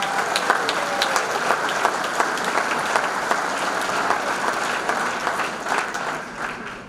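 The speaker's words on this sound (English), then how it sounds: "please give Reed Atha and all the good members of the 8 de Brothers a big round of applause" A Hall of Fame ceremony audience at the St. Joseph Area Sports Hall of Fame gives sustained applause, a dense, steady wash of many hands clapping that carries on evenly for several seconds before tapering slightly.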